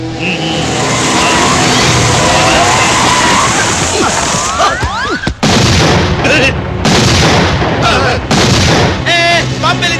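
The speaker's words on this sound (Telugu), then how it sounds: "బాంబు పేలింది" A loud, chaotic film scene of a bomb blast, with booming blasts and crashes, engine noise and shouting voices, the bursts growing choppier toward the end.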